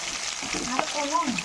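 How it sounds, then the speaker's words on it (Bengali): Tangra fish fry in hot oil in a pan, giving a soft, steady sizzle with faint bubbling and a quiet voice in the background. "চার পিস মাছ আগে ভাজা করে নিই"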